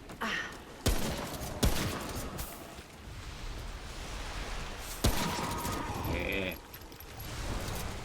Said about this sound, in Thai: มาร์กแมนเหรอปืนเนี่ยยิงทีละนัด